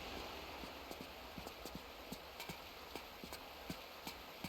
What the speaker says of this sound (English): I can hear some footsteps as well, which is strange because there is no one else on this ship.